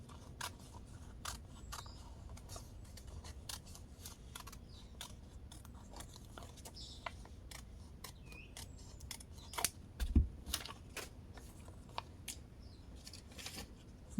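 Scissors snip steadily through fabric folded double for a kimono gown pattern, giving a run of crisp, close cuts with short pauses. No one speaks.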